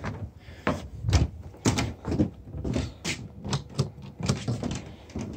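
A regular door handle is tightened down on a door, giving a series of sharp knocks and rattling clicks in an uneven rhythm, close up with no talking.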